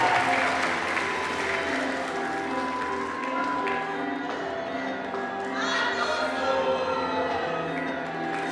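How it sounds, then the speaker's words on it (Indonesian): Sustained crowd applause for the winners of an episode of a university management department fair, steady and full for the whole stretch with faint voices underneath. "Berikan tepuk tangan yang meriah sekali lagi buat para pemenang"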